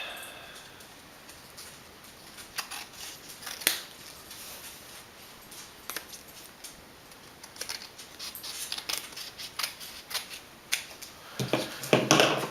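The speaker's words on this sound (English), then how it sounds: "Let's trim this big piece off. Trim it to fit." Scissors snip through a sheet of craft insert paper being trimmed to fit a card, with scattered crisp cuts and rustling paper building toward a louder flurry at the end, close and without talk.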